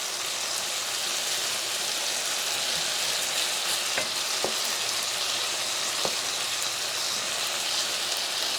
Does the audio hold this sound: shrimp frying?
yes